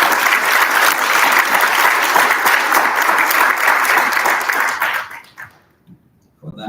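Loud applause from a forum audience at a national adolescent health event, a thick wash of clapping that holds steady, then thins out and stops near the end, leaving brief quiet and a faint sound.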